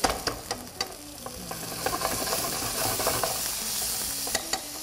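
A spoonful of butter sizzling in a hot pan with sauce, a steady frying hiss throughout broken by several sharp spoon clinks and stirring scrapes, no talk.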